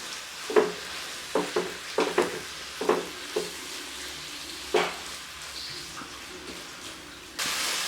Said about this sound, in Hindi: इस तरह चम्मच चलाते हुए मैं इनको तकरीबन 2 से 3 मिनट तक भून लूँगी।